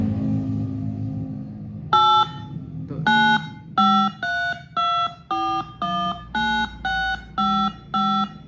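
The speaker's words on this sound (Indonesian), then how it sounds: "Hasilnya adalah suara khas seperti tombol telepon yang biasa kita dengar" DTMF keypad tones for a dialed phone number, generated in a digital signal processing exercise: about eleven crisp two-tone beeps in an even sequence, each lasting roughly half a second with short gaps, after a soft low hum at the start.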